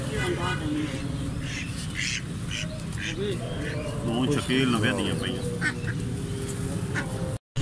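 Pet ducks quacking and honking in a busy, continuous outdoor scene, with chattering calls repeating throughout and a steady background murmur; voices also seem present.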